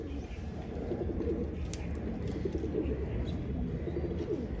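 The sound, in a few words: Giribaz pigeons cooing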